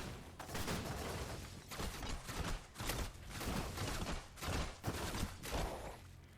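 Rapid bursts of flak cannon fire from a dropship in the game Stormgate, in quick succession, loud and close, with short gaps between volleys of heavy booming shots.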